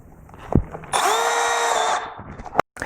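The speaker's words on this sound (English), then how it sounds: "we're going to step up to a 1/4 inch drill bit, or for you metric guys, 6 to 7mm" A power drill with a quarter-inch bit spins up and bores for about a second, whining steadily, then stops; a couple of sharp clicks come before and after.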